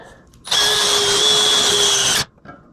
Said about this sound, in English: I'm going to drill them with this 1/4 inch drill and then go to a larger one.